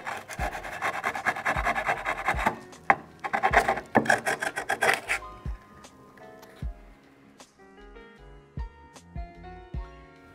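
A scooter deck is filed by hand in quick rasping strokes, loud and close at first in rhythmic bursts, then thinning into scattered scrapes and light knocks.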